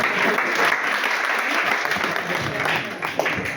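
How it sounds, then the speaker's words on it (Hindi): An audience at a seminar in Delhi claps in dense, continuous applause, loud and steady throughout the short stretch. "एक बार जोरदार तालियां होनी चाहिए।"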